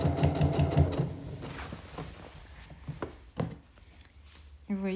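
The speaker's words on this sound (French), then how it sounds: "Et on va continuer à coudre ensuite en marche avant." A sewing machine stitches forward in a quick mechanical run at the start, then slows to scattered clicks and handling noises at close range, while a person talks over it.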